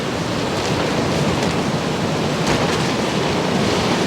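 At a stormy coastal wild camp, wind and surf make a constant, loud, broadband roar with no break. Occasional gusts buffet the microphone, and no voices are heard.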